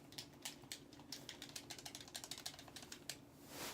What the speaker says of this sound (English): I mentioned the clicking on these buttons.